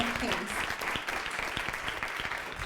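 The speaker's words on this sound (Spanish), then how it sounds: "Dele ese fuerte aplauso al Rey de Reyes." Congregation clapping in a church service, a continuous spread of applause with sharp individual claps standing out, fairly quiet overall, with a voice briefly heard at the start.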